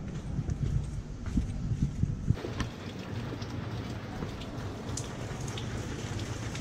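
Steady rain pattering on a surface at night in Hua Hin, Thailand, with scattered drop hits over a continuous wash of noise, fairly close and constant throughout.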